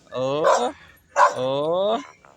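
A dog gives two drawn-out, whining howls close by, each rising and holding before trailing off.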